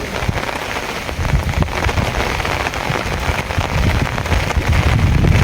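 A heavy downpour over Kodinar town, with loud, dense rain drumming steadily on surfaces and growing a little stronger toward the end. No voices are heard.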